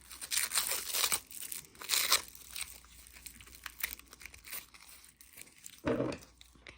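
Crinkly plastic packaging is crumpled and torn in several short bursts with quiet pauses between, close up and fairly soft.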